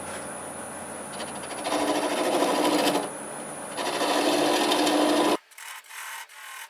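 Staghorn sumac bowl being turned on a lathe with a gouge, a steady close scraping and cutting hiss that swells and eases in passes for about five seconds before the lathe winds down into quiet with faint clicks.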